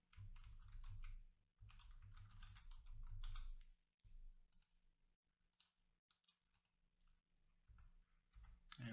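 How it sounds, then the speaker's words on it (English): Name being typed on a computer keyboard during a contacts search, rapid bursts of close keystroke clicks with brief pauses, fairly loud and steady with no talk over it. "by typing it in like this, it'll look for Joshua Brown"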